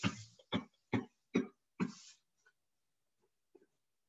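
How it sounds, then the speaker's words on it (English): Five forceful coughs in a steady rhythm, close by, followed by a few soft breaths and faint throat sounds as the coughing fades out. "bending forward and proceed with coughing."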